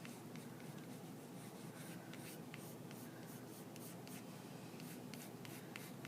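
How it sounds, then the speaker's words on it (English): A 4B pencil shades a still-life sphere on paper in steady curving strokes, a close, continuous soft scratching hiss with repeated brief stroke accents and no talking. "I'm curving the strokes of my pencil."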